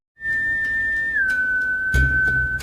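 A single sustained whistled tone, clear and close, dipping slightly in pitch midway, with faint taps and bumps in the background.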